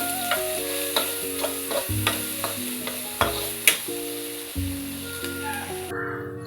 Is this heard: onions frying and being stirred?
yes